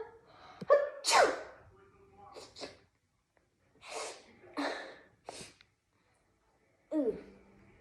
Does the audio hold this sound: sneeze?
yes